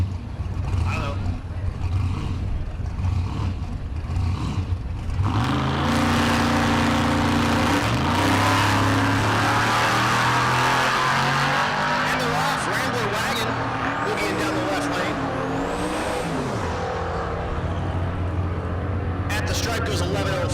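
A big Chevy Impala drag races down a dragstrip in Great Bend, Kansas, its engine roaring loud and sustained with rising pitch sweeps as it accelerates, while an announcer talks over it.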